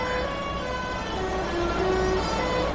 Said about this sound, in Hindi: एक तो ये काफ़ी शानदार हॉर्न है